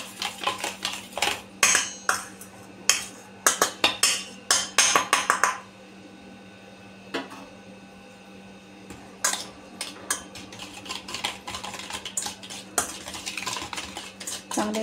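Spoon clinking and scraping against a bowl while biscuit dough is stirred for homemade crispy tea-time biscuits, in rapid close bursts, then a quieter pause before the mixing resumes.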